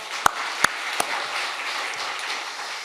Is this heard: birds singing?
no